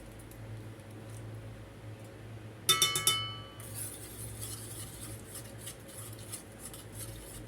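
A metal spoon stirs sugar, vanilla and baking powder in a bowl, giving a quick cluster of bright clinks and scrapes followed by softer intermittent stirring against a low background hum.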